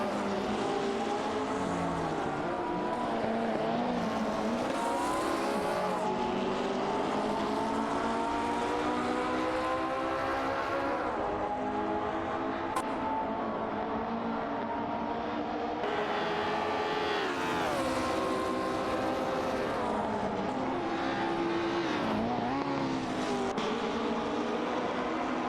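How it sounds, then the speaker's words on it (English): An AI-driven race car in a simulated race roars along at high revs, its engine tone sustained and steady over many seconds with shifting pitch as it pulls away, loud and continuous with no speech. "Racing car dashing away."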